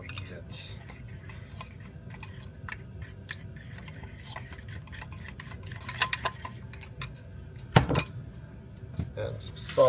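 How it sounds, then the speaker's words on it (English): Whisk scraping and clinking against a bowl as a mixture is whipped, a steady rubbing rhythm with sharper metallic knocks near the end, a voice talking over it. "Start whipping this again, see what we get."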